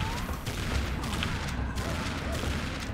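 Dense bursts of gunfire in the game Serious Sam 2 crackle over a rumbling, noisy backdrop, with rapid shots layered together at moderate volume and no clear speech.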